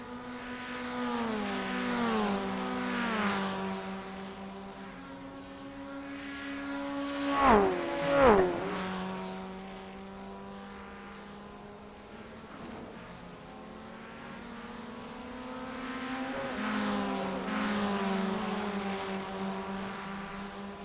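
Formula Ford open-wheel race cars howl past on a banked oval, engines rising and falling through gear changes, with a close loud pass mid-way and a steady pack drone continuing alone throughout.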